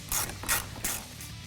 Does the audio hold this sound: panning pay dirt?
no